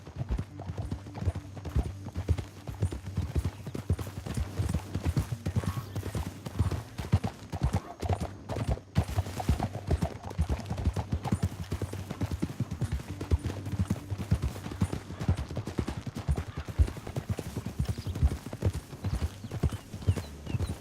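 Steady clip-clop of horse hooves trotting along in the video game Red Dead Redemption 2, continuous and fairly close, with occasional faint snorts and no talking.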